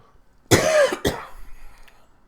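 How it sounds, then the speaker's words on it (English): Two harsh coughs in quick succession, close and loud, the first longer and raspier, followed by quiet breathing. "If I don't cough to death first."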